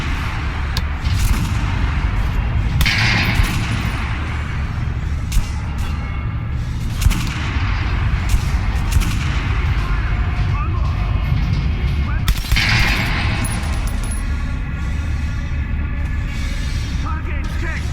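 Repeated gunshots crack in the first-person shooter Metro Last Light Redux, loud bursts scattered through a dense mix of game ambience and mechanical clatter, with a few voices speaking around the firing.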